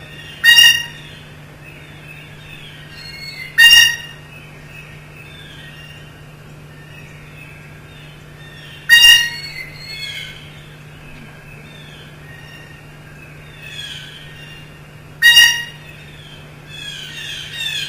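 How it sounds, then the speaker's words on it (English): Sharp, harsh calls from a couple of jays in a yard ring out in short bursts every few seconds, separated by quiet stretches with a low steady hum underneath. "A couple of jays have invaded the yard"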